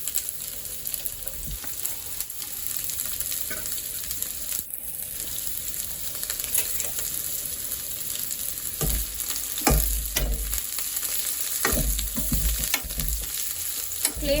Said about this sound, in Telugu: ఇప్పుడు వచ్చేసి కాకరకాయలు కొన్ని వేసుకొని డీప్ ఫ్రై చేసుకుందాం.